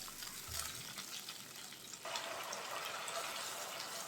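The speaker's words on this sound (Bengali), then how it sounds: "মশলাটাকে একটু ভেজে নেব যাতে কাঁচা গন্ধ চলে যায়" Spice paste fries in a pan for a fish belly curry, a soft steady sizzle with faint stirring scrapes and a brief low knock, the frying growing brighter and louder partway through, no voices.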